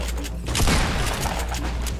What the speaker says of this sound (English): We're getting shot from another place now.